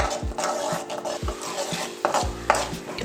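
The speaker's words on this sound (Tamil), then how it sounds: "இது ஆயில் பிரிஞ்சு வர அளவுக்கு நாம் இதை கிண்டி எடுத்துக்கணும்" Spoon scraping through thick masala in a pan, cooked until the oil separates, in repeated close strokes with a light sizzle and the occasional clink of metal, no voices.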